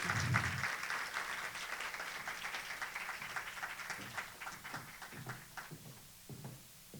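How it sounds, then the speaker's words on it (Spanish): Audience applause for a professor introduced at a poetry and photography event at INTEC: a dense wash of clapping from a sizeable crowd, steady for several seconds before thinning out and fading near the end. "Un aplauso para el profesor Herminio Alberti"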